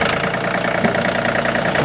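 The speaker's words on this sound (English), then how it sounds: "as I hop on the tractor, put my seat belt on, go ahead and start it up" A John Deere 3032E compact tractor engine running just after start-up, a steady, slightly knocking diesel idle with an even, close rumble and no voices over it.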